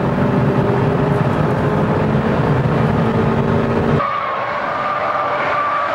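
Toyota Supra and other JDM cars in an acceleration race, a loud, steady engine roar with droning tones that shifts abruptly to a thinner, higher whine partway through.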